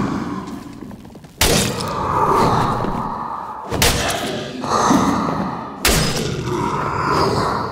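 Combat with a wraith in the dark fantasy dungeon game Dark and Darker: three heavy impacts like slams or weapon strikes, each followed by a rumbling, breathy decay, loud and close with no talking.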